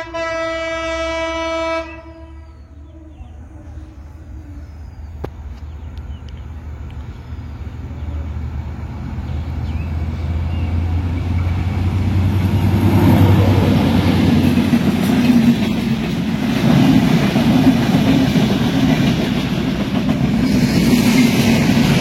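The Banalata Express, a non-stop train bound for Dhaka, sounds a long, loud horn, then rolls through the Mirzapur–Kaliakair section with a rising, sustained rumble of wheels and carriages passing close by.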